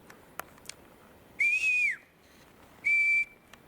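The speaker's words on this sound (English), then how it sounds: "Here, let's whistle." A person whistles in the woods: two sustained, steady high tones, each about a second long, separated by a pause, clear and fairly loud over quiet outdoor background with a few faint clicks.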